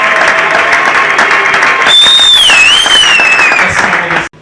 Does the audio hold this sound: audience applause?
yes